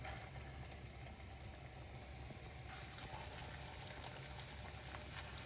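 Cooking oil heats in a pan, giving a faint, steady low sizzle and bubbling with an occasional soft pop, quiet and unbroken throughout.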